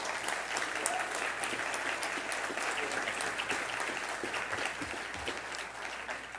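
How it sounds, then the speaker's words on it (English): An audience claps for volunteers at a city council candidate forum, producing a steady wash of many hands, fairly distant and even, with a few sharper individual claps standing out. "How about a round of applause for all our volunteers?"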